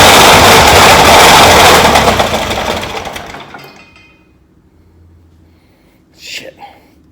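A Massey Ferguson TO35 tractor engine with an odd internal fault runs loud and rough for about three seconds, then winds down to near quiet before one short sharp noise.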